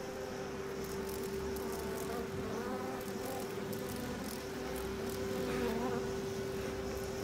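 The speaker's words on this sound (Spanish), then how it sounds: "¡Coño, mosquitos!" Mosquitoes buzzing in the horror video game Outlast 2, a steady insect drone with a held whining tone, moderately loud and continuous, with no speech over it.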